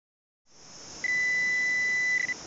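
A Garrett AT Pro metal detector sounds over a brass buckle: a soft hiss, then one clear, sustained high-pitched tone lasting just over a second before it stops.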